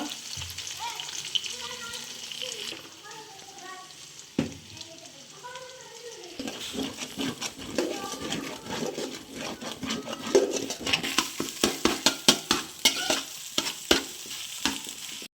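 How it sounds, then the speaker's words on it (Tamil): Beaten, lightly salted eggs frying in a pan, a continuous close sizzle with bursts of spatula scraping and tapping that become rapid and louder toward the end. "இப்போ நாங்கள் முட்டையை வறுத்தெடுத்தாச்சு"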